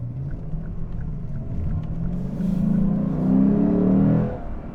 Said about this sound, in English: When it comes to the exhaust and the engine note, it does sound good.